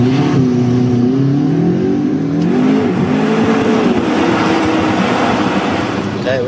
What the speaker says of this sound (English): Give it some so I can hear what it sounds like from here.